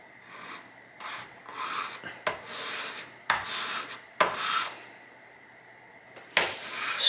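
Glazed bicycle brake pads rubbed on 220 grit sandpaper, giving repeated close, loud raspy scraping strokes in uneven bursts with brief pauses between passes.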